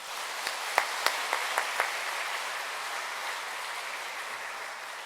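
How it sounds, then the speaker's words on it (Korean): Church congregation applauding to welcome a pastor before a sermon: a few distinct claps stand out early over a soft, diffuse wash of clapping that fades to a quiet hum, fairly distant. "다시 한번 박수로 환영하겠습니다."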